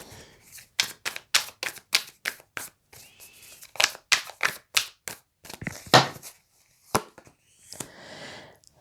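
Tarot cards drawn and handled in a reading, giving a run of sharp, evenly spaced snaps and flicks, close and fairly quiet, with a softer rustling shuffle near the end and no talk.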